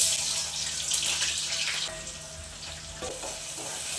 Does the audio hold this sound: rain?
no